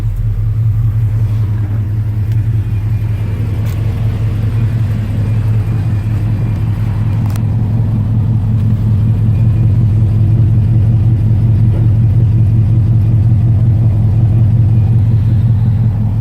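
A 1973 Ford F100 Ranger XLT pickup engine idles nearby with a deep, steady, throbbing rumble that holds constant throughout, with no talking.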